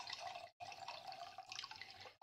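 Sauvignon Blanc wine poured from a bottle into a glass, a soft, close, continuous liquid splash broken by one brief pause, quiet and alone.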